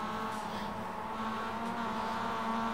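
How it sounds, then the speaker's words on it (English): A race car in the iRacing simulator at Lime Rock gives a steady, loud engine drone that holds close and continuous throughout, with no voices over it. "Very loud green and purple car."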